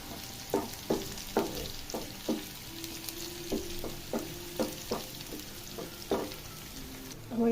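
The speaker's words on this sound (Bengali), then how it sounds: "এটা প্রায় হয়ে এসেছে, এবার ভালোভাবে ভেজে নেব।" Spices frying in oil for lentil dal, a faint sizzle broken by a regular series of sharp taps and scrapes from stirring, all quiet and without talk.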